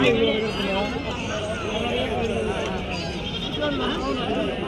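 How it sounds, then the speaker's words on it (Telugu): Several rams bleat amid a noisy crowd at the Angallu sheep market, their wavering calls overlapping with steady chatter throughout. "పొట్టేళ్ళు ఉన్నాయి"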